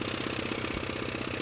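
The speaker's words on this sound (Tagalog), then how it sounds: "umaandar na yung makina" A diesel engine idles steadily up close, its rapid, even knocking rhythm holding throughout with no voices.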